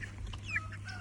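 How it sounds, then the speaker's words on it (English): Young pet chickens from a brooder, carried in a box covered with a bag for shade, cluck faintly with a few soft, short calls over a low steady hum. "Walking my chickens"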